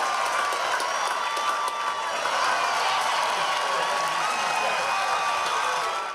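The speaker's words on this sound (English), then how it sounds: "The smiles on the kids' faces had the crowd cheering all game." At a youth baseball game before a packed grandstand, a crowd roars with continuous cheering and clapping, a loud, steady wash of noise with a few whistles threaded through.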